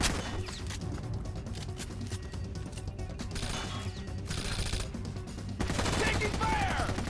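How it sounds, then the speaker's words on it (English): Heavy gunfire in Tom Clancy's Rainbow Six Vegas during the Calypso Casino mission, rapid overlapping bursts that stay loud and dense throughout, swelling even louder toward the end. "Taking fire!"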